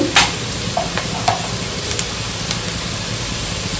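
Potatoes fry in a pan with a pinch of salt for a flattened-rice pulao, giving a continuous close sizzle. A few light clinks and scrapes of a spoon cut in here and there.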